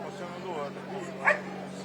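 A search and rescue corporation dog gives a short bark or yip amid a flood-search scene, brief and moderately near, under a steady background hum.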